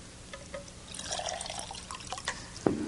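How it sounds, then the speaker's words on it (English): Tap water trickles and drips into a glass, soft splashes and droplets at close range building to a brief louder pour at the end. "This is tap water."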